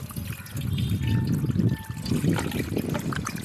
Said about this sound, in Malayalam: ഇനി നമ്മുടെ ചിക്കൻ നമുക്ക് അടിപൊളിയായിട്ട് കഴുകി എടുക്കണം